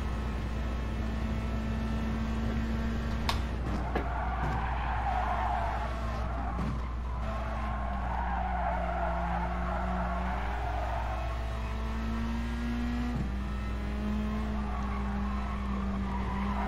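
Race cars in GT Sport, engine drone steady and droning throughout with pitch rising and falling as they corner, a few sharp tire skids and clicks breaking through, no talking.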